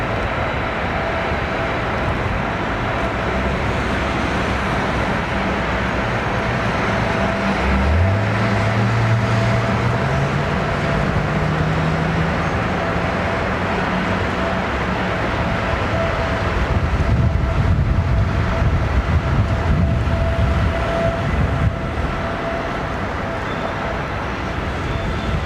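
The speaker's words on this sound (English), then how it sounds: "Somebody's doing an engine run." Aircraft engine run at London Heathrow Airport, a continuous distant jet roar under wind and airport ambient noise, with a low tone that sweeps upward partway through as the engine spools up, no speech heard.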